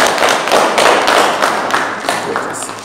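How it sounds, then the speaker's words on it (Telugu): A crowd at a farmers' meeting claps together in steady, dense applause that holds loud and close for a few seconds before easing slightly. "అందరూ క్లాప్స్ కొట్టండి"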